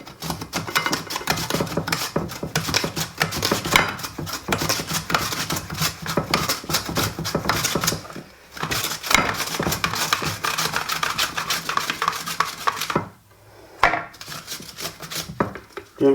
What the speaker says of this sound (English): Now it's cutting a beautiful even thin slice.